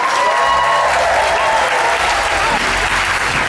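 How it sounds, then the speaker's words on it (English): Loud, sustained applause from a large audience at a Star Wars Weekends stage show fills the space evenly, a thick continuous roar of clapping with faint crowd murmur. "let's give a big round of applause for all those people backstage who are working very hard to make the show go"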